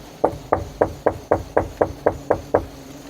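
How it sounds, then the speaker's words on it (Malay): Ten evenly spaced, firm knocks strike the main door of a house, a steady rhythm of hollow wooden thuds, fairly close and clear, with no voices. "Pintu utama diketuk."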